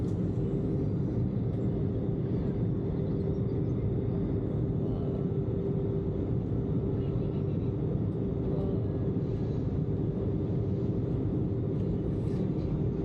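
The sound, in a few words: airplane ascending after takeoff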